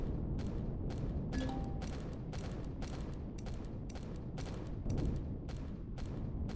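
Rapid bursts of gunfire in Empyrion Galactic Survival, repeated sharp shots landing in an uneven rhythm over a dense, rumbling game background throughout.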